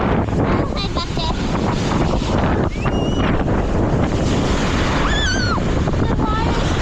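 Ocean surf at a beach, a loud continuous wash of waves mixed with heavy wind buffeting the microphone, while a voice and squeals break through in short bursts.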